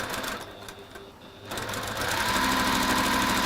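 A compact home sewing machine stitching fabric in a textile workshop, starting quietly and then running in a steady, fast whirring drone that grows louder and holds to the end, without talk.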